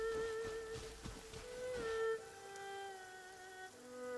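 Steady rain falls across a desert in Genshin Impact, a soft continuous patter under a sustained musical tone, fairly quiet and even throughout.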